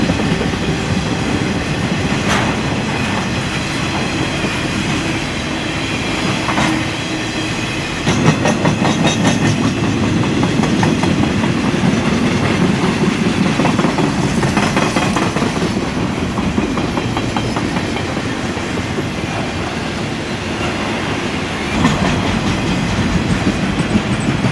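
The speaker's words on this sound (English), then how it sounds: "a 4-unit container and piggyback train heads west out of Crescent" Westbound Conrail four-unit container and piggyback freight train carrying mostly J.B. Hunt vans heading out of Crescent, passing steadily and loudly with continuous wheel rumble and rhythmic clickety-clack over rail joints, no talking.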